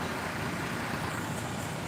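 Tourist buses at a crowded bus terminal during the holiday homebound travel rush, a loud, dense, continuous engine rumble and idling drone close by, with no voices audible.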